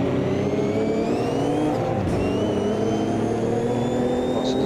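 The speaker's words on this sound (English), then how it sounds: "Lots of the turbo kicking and just spinning the rear wheels up." Porsche 935/78 racing car in the Automobilista 2 sim, turbo engine roaring steadily with rising and falling harmonic whine as the rear wheels spin up, loud and continuous with no talk.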